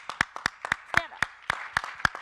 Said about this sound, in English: We have to give you a round of applause.